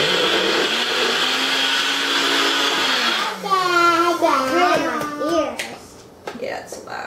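A Nutribullet blender whirs steadily as it purees sweet potato pancake batter, its drone dropping in pitch midway, then a voice and other talk take over while the motor winds down.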